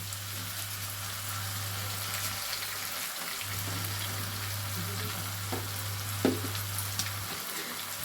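Ginger garlic paste fries in a pan with a steady, close sizzle that runs throughout, with a few faint stirring knocks near the end and a low hum beneath.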